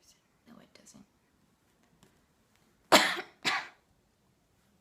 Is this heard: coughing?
yes